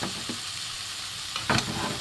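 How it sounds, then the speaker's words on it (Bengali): Boiled mung beans dry-roasting in a hot pan, a soft continuous crackle with a couple of brief scraping stirs, moderately close. "এইভাবে সেদ্ধ করে শুকনো খোলায় ভেজে"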